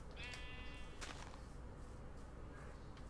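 Sheep in Minecraft bleat in a couple of short, clear calls over a steady game ambience, with a faint tap or two of footsteps.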